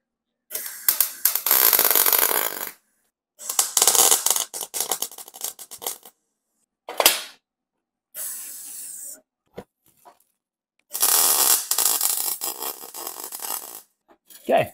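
Welding on scrap metal for a Baja Bug bumper comes in several loud, close bursts of crackling hiss lasting a second or two each, separated by short silences.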